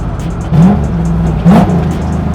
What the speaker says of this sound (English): we're going to fix that exhaust leak